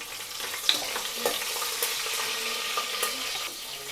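Green chillies fry in hot oil in a pan for a vegetable pulao, giving a soft, steady sizzle with a few faint pops and spatters and no talk.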